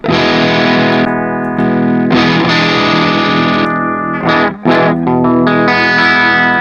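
Electric guitar played through a Flamma FS06 preamp with amp and cab simulation, heavily distorted chords and riffs ringing loud and close, with short pauses and choppy bursts near the end.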